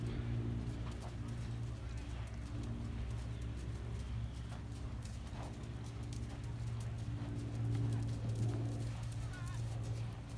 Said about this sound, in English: Okay Maddie, gather your reins and when you're ready, trot on